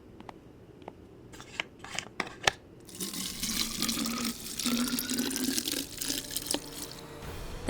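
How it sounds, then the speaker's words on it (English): A water fountain refilling a water bottle: a few sharp clicks and taps, then a steady gush of water flowing into the bottle, close and moderately loud, running continuously with a rising tone as it fills. "I have to refill my water bottle at the water fountain."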